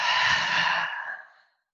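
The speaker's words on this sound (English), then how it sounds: "Sharply exhale, fold" A sharp, forceful exhale during a yoga breathing exercise, a loud close breathy rush that tapers off within about a second and a half into silence.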